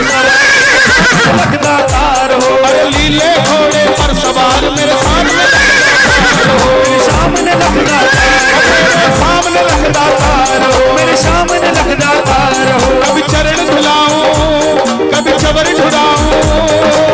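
A horse neighs and whinnies within a Hindi devotional song about a rider on a blue horse, the calls blending into loud, continuous music with drums and singing throughout.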